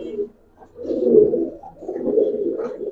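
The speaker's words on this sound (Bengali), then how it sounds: "মাশাআল্লাহ অনেক সুন্দর একটা মাদি, উঠতি কবুতর তো" Giribaz pigeons cooing close by, a young female in the flock, in two low, rolling bursts after a brief soft call, with no talk.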